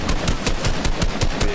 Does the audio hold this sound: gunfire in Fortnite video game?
yes